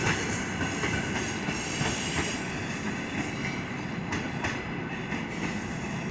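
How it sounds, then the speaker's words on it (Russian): A special train on the Riga–Vilnius–Kyiv route departs a station close by with continuous rolling noise, faint wheel clatter and occasional squeals, steady and loud throughout. "Ну вот, все, уехал поезд."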